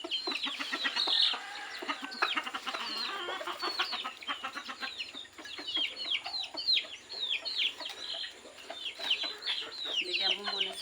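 Fighting roosters cluck and chatter continuously while being fed grain on the ground, with many overlapping close calls and a faint voice in the background.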